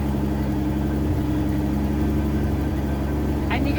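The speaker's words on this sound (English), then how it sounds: "you can listen to that exhaust, and it sounds absolutely killer" A Ford Mustang fitted with a new exhaust idles steadily after a cold start, a low, continuous rumble throughout with faint background sounds.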